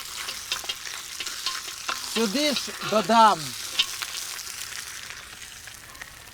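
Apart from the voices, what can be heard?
meat sizzling in a heated cauldron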